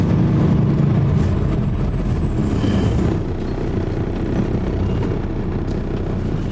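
A semi truck hauling a 53-foot van trailer swings wide and drags back around, its engine a loud, close, steady drone that eases slightly partway through, with no talk.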